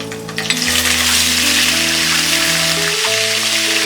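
Mustard seeds, asafoetida and curry leaves hit hot oil for murmura chivda, giving a loud, steady sizzle and crackle close by, with a musical tone running underneath.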